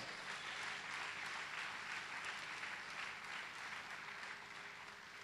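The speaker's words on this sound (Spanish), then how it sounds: "¿Cuántos aplauden el nombre del Señor?" A church congregation applauds in a continuous, even wash of clapping that sounds distant and soft, with no voices above it.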